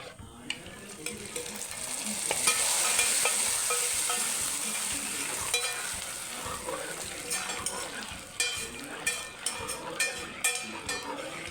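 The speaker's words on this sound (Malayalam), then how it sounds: "പായസം നമ്മളിങ്ങനെ ഇളക്കി കൊടുത്തുകൊണ്ടേയിരിക്കണം" Wheat payasam being stirred in a pan with ghee-fried cashews, coconut pieces and raisins, giving a steady scraping and soft sizzling that swells early, then eases into periodic spoon knocks against the pan, with no talk.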